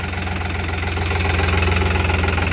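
A New Holland 3600-2 tractor engine runs steadily with a low, throbbing, slightly knocking diesel rumble, close and loud, pulling a nine-tine cultivator in second gear high range. No voices are heard.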